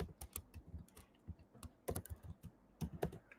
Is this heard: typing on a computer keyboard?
yes